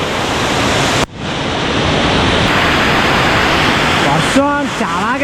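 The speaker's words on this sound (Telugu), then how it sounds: "వర్షం చాలా గట్టిగా పడుతుంది" Heavy rain pours down at Kaasipatnam waterfall near the Araku ghat road, a loud steady broadband roar that briefly dips partway through, with a voice speaking over it near the end.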